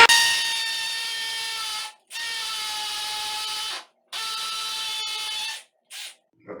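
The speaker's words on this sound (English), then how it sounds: "I'm actually drilling here" A hammer drill bores into a concrete floor for a toilet flange installation, loud whining bursts close by, running in three long runs broken by short pauses and ending with a couple of brief spurts.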